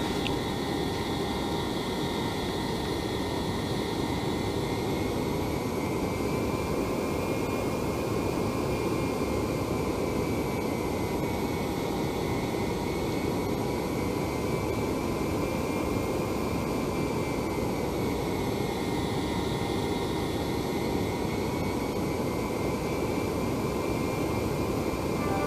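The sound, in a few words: Citation X jet taxiing in flight simulator video game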